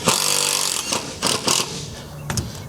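Power driver sinking screws into a wooden trailer floor, a steady whirring drive lasting almost a second followed by several short bursts as the screws seat, loud and close.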